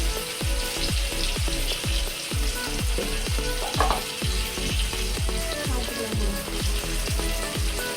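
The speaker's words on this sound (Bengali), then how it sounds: "দিয়ে অল্প জল দিয়ে মশলাটাকে ভালো করে কষে নেব" Spice paste for a jackfruit-seed curry fries in a pan, with a loud, steady sizzle carrying repeated rhythmic scrapes and knocks of a spatula stirring throughout.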